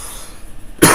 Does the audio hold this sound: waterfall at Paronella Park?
no